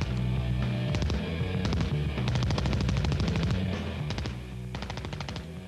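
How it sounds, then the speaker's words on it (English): Thompson 1928 submachine gun firing .45 rounds from a 50-round drum, several long rapid-fire bursts of sharp cracks separated by brief gaps, loud and close, no voices. "I'm shooting the Thompson submachine gun, or Tommy gun"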